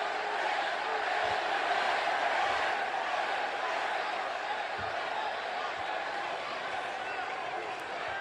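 Wrestling arena crowd cheering and roaring in a steady, dense wash of noise that holds for the whole stretch, loud and continuous with no pauses.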